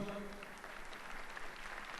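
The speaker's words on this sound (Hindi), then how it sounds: "तालियों की गूंज से स्वागत और अभिवादन करेंगे।" Steady, dense applause fills a concert hall at a Hindustani classical music event as an audience welcomes the performers, continuous and fairly even throughout.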